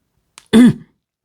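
A single short throat clearing, close and distinct, preceded by a faint breath, then silence.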